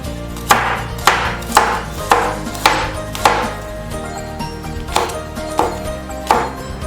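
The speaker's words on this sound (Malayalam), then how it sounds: "ഇത് നമുക്ക് തിന്നായിട്ട് കട്ട് ചെയ്തെടുക്കാം" A knife chops garlic cloves and green chili on a cutting board with sharp, evenly spaced knocks, roughly one or two per second. The strokes are close and loud and there is no talking.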